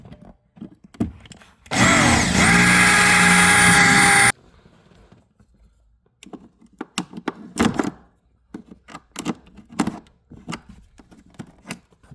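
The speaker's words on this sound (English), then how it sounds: "Just use the drill." A power drill with a thin bit whirs loudly and steadily for a few seconds, drilling into a plastic part of a BMW Z4 E85 center console, then stops, followed by scattered clicks and handling noises nearby.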